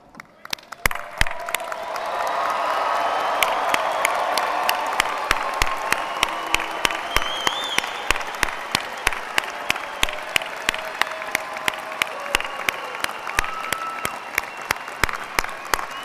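Graduates at a university winter commencement ceremony applaud and cheer loudly in a large hall, a sustained dense wave of clapping with whoops that swells early then continues steadily throughout.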